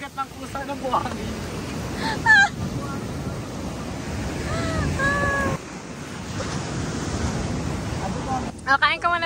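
Sea waves washing over a sandy beach make a steady broad rushing wash with gusts of wind noise, loud and close, while people talk and call out over it in short bursts.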